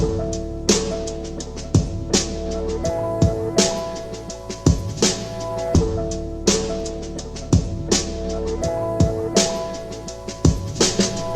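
A drum break, sampled and lightly chopped, plays as a steady looping groove of sharp kick and snare hits over sustained tonal backing, loud and clear with no talking.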